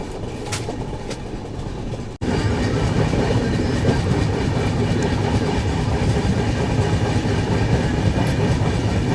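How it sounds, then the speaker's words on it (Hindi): An express train runs along rails near Badnera and New Amravati, with a steady, loud rolling rumble and rattle. It dips briefly at about two seconds, then returns heavier and stays continuous, with no voices. "तो खैर यहाँ से हमारी ट्रेन अपना पाथ चेंज कर चुकी है"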